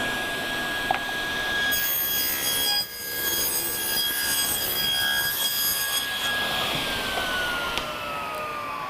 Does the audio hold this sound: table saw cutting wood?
yes